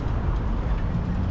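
A car on the road makes a steady low engine and tire rumble close by, heard from a bike ride, with no voices.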